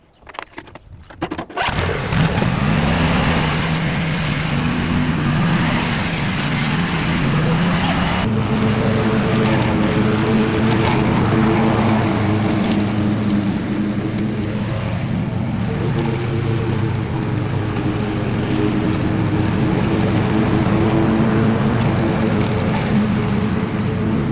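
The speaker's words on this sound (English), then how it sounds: "I'll start this back up and I'm probably gonna just scalp this area real low with the mower." A lawn mower starts near the beginning and runs steadily and loudly close by, cutting grass very low on a homestead, its engine drone holding constant with slight load variations.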